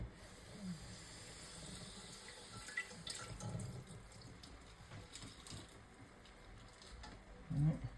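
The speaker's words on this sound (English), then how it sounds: "I'm going to give it a quick rinse over here" Tap water running steadily into a sink while rice is rinsed, a faint continuous hiss and splash with a few soft knocks and shifts as the grains are handled.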